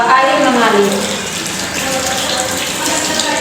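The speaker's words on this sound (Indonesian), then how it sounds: "Bilas tangan di bawah air mengalir." Tap water runs steadily over hands being rinsed at a sink, a close, continuous gushing splash that fills the whole stretch.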